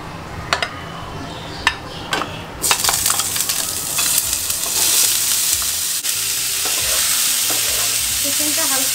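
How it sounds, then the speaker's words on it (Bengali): Chicken frying lightly in olive oil, starting with a few sharp clinks before a loud sizzle swells and stays steady while it is stirred, with scattered scraping and tapping sounds. "চিকেনটা হালকা ভেজে নেব।"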